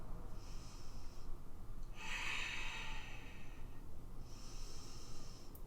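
Slow, deliberate yoga breaths, close and soft: a long airy inhale followed by a drawn-out exhale, repeated in an even rhythm over a quiet background.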